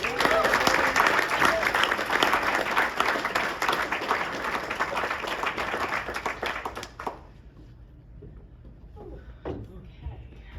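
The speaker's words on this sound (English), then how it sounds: "Let's give her a round of applause." Loud applause from an audience, dense clapping for about seven seconds before it stops abruptly, leaving a quiet room with a few faint sounds.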